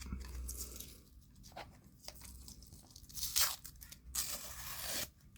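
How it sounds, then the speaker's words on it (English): Masking tape is peeled off a Hachette Titanic scale model in close, quiet tearing and crinkling strips, with several sharper rips and small rustles between them; no talk. "Let's get our masking tape off."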